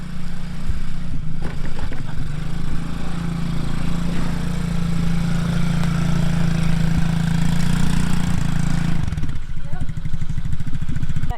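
A TaoTao Coolster 110cc youth ATV, said to bog and backfire, runs loudly close by with a steady mid-pitched engine drone that shifts near the end, and voices can be heard over it.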